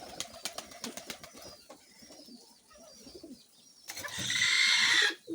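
Pigeons coo softly close by while pecking at a rye and wheat grain mix, with scattered small taps and a louder burst of calls and rustling near the end.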